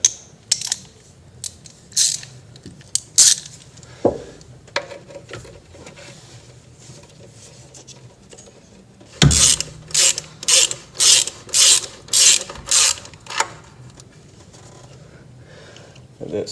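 A ratchet with a 13 mm socket clicks in quick bursts while loosening valve cover nuts on a 7.3 Powerstroke diesel, a sharp run of rhythmic clicks standing out near the end amid quieter scattered taps and handling noise.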